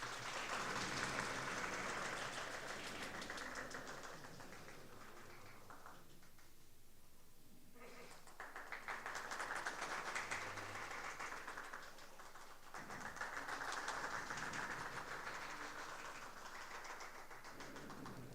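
Audience at a university conference felicitation ceremony at NIT Rourkela gives sustained applause that swells, dips briefly in the middle and rises again, a broad, steady wash of clapping lasting many seconds.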